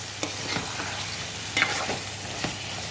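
Chicken curry with tomato fries in a pan, giving a steady close sizzle marked by several scraping stir strokes of a spoon.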